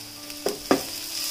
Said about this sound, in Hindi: अदरक लहसुन को अच्छे से भून लिया है मैंने।